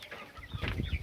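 Hybrid local chickens clucking on a rooftop coop after feeding and drinking, giving a short burst of soft, close clucks.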